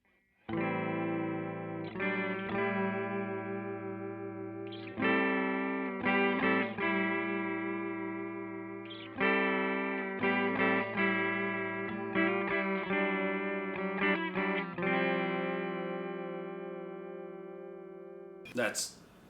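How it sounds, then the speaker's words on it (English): Electric guitar played through a JHS Emperor pedal in sine-wave vibrato mode, picking clean, sustained chords and notes with a smooth wavering pitch across several phrases, close and full, ending in a brief burst of noise. "Here it is with the Emperor Vibrato sine wave."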